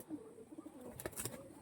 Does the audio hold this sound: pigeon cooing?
yes